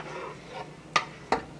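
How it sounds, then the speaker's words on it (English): Cooked meat is mixed into pasta, with a faint soft squelching stir followed by two sharp utensil clinks against the pot. "I'm going to go ahead and marry the meat with the pasta."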